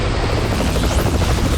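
Firefighting helicopter arriving over a blaze, its rotor throbbing loud and steady, close and filling the whole moment with dense engine roar and blade chop.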